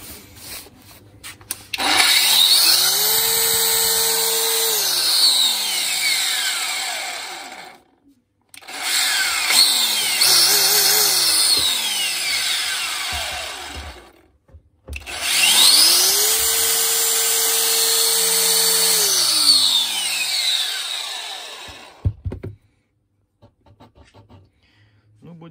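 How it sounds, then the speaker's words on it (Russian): A Dexter angle grinder brought in for warranty repair with a fault causing an extraneous whistling noise runs in three long bursts, each spinning up to a loud whine with a high whistle and winding down between runs. "При работе посторонний шум свистит."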